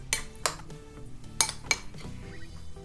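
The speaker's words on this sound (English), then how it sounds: "Now we're going to give this a good mix." A spoon clinks against a bowl while an orange zest marinade for a leg of lamb is mixed, giving four or five sharp, close taps over a low, quiet background.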